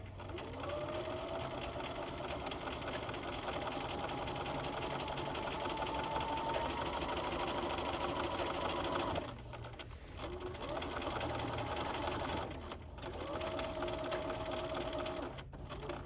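A sewing machine sews a double-needle topstitch hem in long, close, steady whirring runs of fast stitching, broken by brief pauses and restarts.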